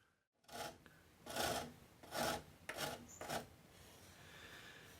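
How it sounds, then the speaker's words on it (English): A microplane rasps across a wooden butterfly inlay on a broken guitar headstock, giving about five close, dry scraping strokes in an uneven rhythm, each a short rough swell followed by quiet. "now I'm using a microplane to very carefully"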